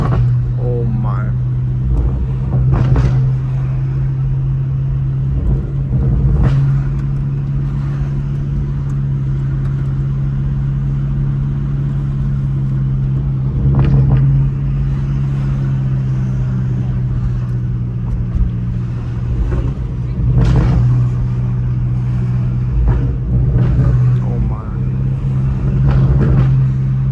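BMW M5 Competition with a twin-turbo German V8, its low, steady engine drone running throughout with a few louder surges, while people talk over it close by.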